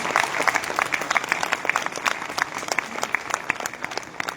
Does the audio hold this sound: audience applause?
yes